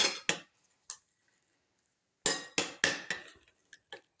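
An egg mixture for a cucumber tomato omelette is beaten in a bowl, giving sharp, close clinks of utensil against the bowl in irregular bursts with a quiet pause between them.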